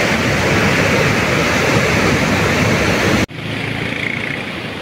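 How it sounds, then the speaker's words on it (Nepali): A river rushes beside a mountain trail on the way from Khechuperi Tathang to Darap Bazar, a loud, steady broadband roar of water close by. It cuts off abruptly partway through, then continues softer and more distant. "खोला यता कुदिरहेको छ"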